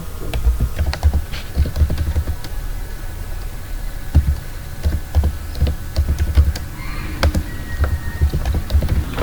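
Rapid, steady clicking of keys on a computer keyboard, close and fairly loud, with irregular bursts of keystrokes over a low hum and no talk.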